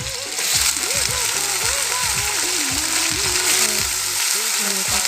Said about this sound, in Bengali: তেল দিয়ে ডিমটাকে হালকা করে ভেজে নেব।